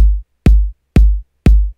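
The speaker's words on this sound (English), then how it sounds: "So I have two kicks layered up here." Four punchy kick drum hits, two kicks layered together for a deep sub-heavy thump with a little high-end click, spaced evenly about half a second apart and playing alone.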